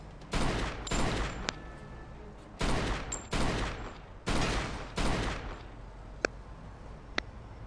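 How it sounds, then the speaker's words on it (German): Bursts of gunfire from the crime shooter Mafia 2: several loud, dense volleys of shots a few seconds apart, followed by two sharp isolated single shots near the end, with no talk over them. "Und jetzt schießen wir auf die da."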